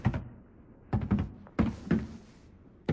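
A door is pushed open in a first-person shooter, giving several dull, hollow thunks and knocks close by, spaced in short bursts with quiet gaps between them.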